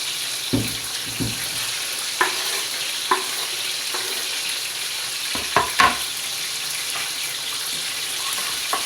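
Onions sizzling and frying with minced meat in a hot pan, with occasional scrapes and clinks of a spoon stirring, close up and without talk.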